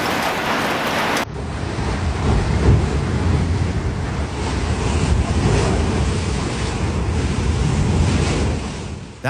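Swimming pool water sloshes in waves as a magnitude 7.1 California earthquake shakes it, giving a loud, continuous churning rush with heavy wind-like buffeting on the microphone and no voices.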